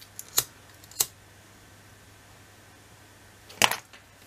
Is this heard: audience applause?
no